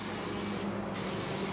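Contact cement sprays from an aerosol can onto a timing cover gasket for a Chevrolet 454 big block, a steady close hiss that runs throughout with a brief pause midway.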